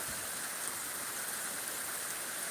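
Heavy pre-monsoon rain falls steadily in calm, windless weather over farmland, a dense, even hiss with no pauses and no voices.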